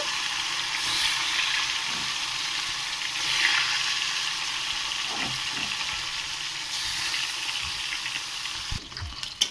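Snakehead (shol) fish frying in hot oil, a steady broadband sizzle holding throughout with a few clatters near the end, no speech.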